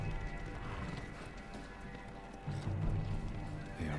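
Galloping hooves and a horse whinny ring out amid a busy Ghost of Tsushima game soundscape with music and rumble, fairly loud and continuous throughout.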